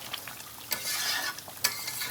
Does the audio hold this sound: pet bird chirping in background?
no